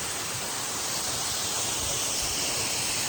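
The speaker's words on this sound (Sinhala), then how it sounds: "පුංචි දියැල්ලක් වුණත් ලස්සනට උඩ ඉඳන් වැටෙනවා." A small waterfall in the Sinharaja rainforest pours down from above with a steady, close, broadband rush of falling water and no voices.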